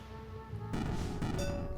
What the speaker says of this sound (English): So explosions ring bells.